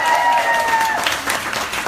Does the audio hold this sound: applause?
yes